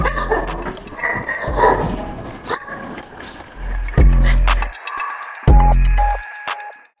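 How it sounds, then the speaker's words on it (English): A dog in a rural Chinese village barks several times at close range, loud and irregular, with yips and whimpering noises between the louder barks. "An unexpected encounter with a barking dog sent me retracing my steps"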